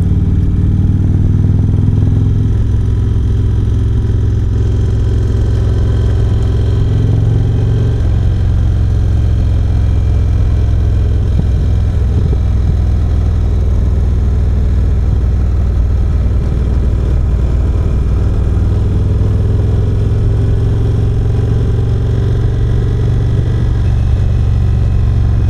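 Indian Springfield Darkhorse motorcycle engine running: a loud, deep, continuous rumble heard close by for a long stretch, steady and unbroken with a slight change in tone partway through, no talking.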